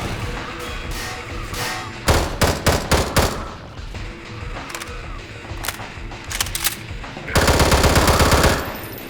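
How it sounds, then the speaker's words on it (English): OICW assault rifle with grenade launcher firing in The Burton Equation, a Half-Life 2 mod: short sharp automatic bursts around the middle, then a sustained louder volley near the end, loud and close with no talk. "An OICW with a really smooth reload and grenade launcher."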